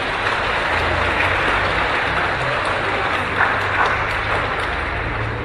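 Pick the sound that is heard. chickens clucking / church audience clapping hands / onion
church audience clapping hands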